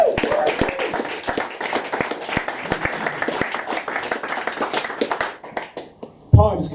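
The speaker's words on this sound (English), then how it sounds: "More applause, please." Applause at a poetry open mic, a small audience clapping in a brisk, uneven patter of distinct hand claps that thins out and fades before a voice starts near the end.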